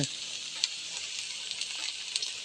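Crickets dry-roast in a pan with a constant sizzle and hiss, with scattered pops and soft stirring scrapes close up; no voices.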